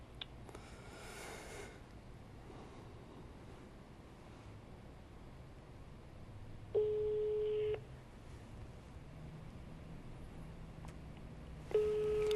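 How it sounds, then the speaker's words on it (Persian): A telephone line gives the tone for an unreachable dialed number: two steady, pitched beeps several seconds apart over a constant hissing background. "آقای باقری، من از موبایل شخصی خودم دارم بهت زنگ میزنم"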